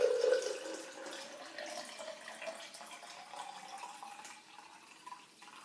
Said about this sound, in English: we're going to give this a try first by putting water in there